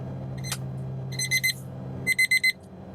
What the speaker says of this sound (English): Trying to fix that alarm clock. Should not be ringing right now.